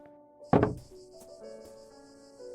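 A single hollow thunk comes from inside a coffin in the video game The Last Door, followed by a quiet ambient drone with faint tones.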